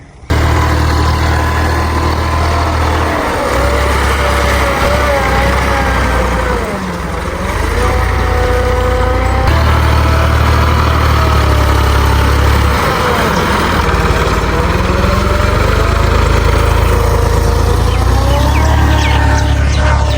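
A steady, low tractor engine rumble runs throughout, close by and loud, with voices talking over it, during field preparation for rice planting.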